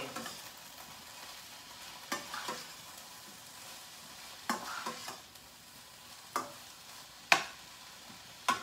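Smoked codfish being mixed into a sizzling pan for ackee and saltfish, a soft, low fry under a handful of sharp spoon scrapes spaced a second or two apart.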